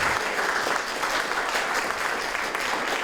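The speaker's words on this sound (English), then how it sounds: "give him another round of applause" An audience at an evening museum talk about Dutch Americans in the Civil War gives a dense, steady round of applause, continuous and even throughout.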